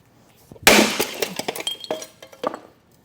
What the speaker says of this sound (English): As the pipe shattered, the coating shatters with it.